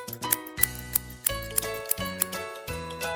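A hairdresser's scissors snip in a steady series of short, crisp clicks, roughly a dozen cuts at an even pace, over soft background music.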